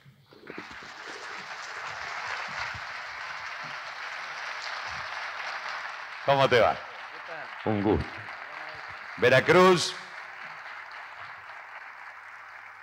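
An audience applauds for an Argentine singer as a broad, steady wash of clapping that runs throughout, while a man briefly greets someone and speaks a few words over it.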